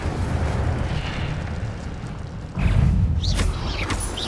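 The Incendio fire spell in Hogwarts Legacy on Xbox Series X: a loud, continuous roaring burst of flame that swells sharply partway through. Brief whooshing sweeps follow near the end.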